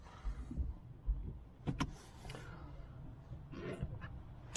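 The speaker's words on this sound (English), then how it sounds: "Rear wiper's still going" A car's rear wiper runs on its own while reverse gear is selected and the wiper switch is off, giving quiet motor whirs and a few soft clunks at close range inside the vehicle, with no talk.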